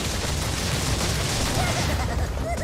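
TNT crates explode in a Crash Bandicoot 2: Cortex Strikes Back level as a dense, noisy barrage of game blasts and effects that runs without a break, with someone talking over it.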